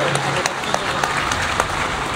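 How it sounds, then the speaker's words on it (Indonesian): An audience claps for guests at a 25th anniversary celebration of the KEADILAN party, a steady patter of applause with a few sharper claps, close and continuous, with no talk over it. "kita bagi tepukan kepada our guest"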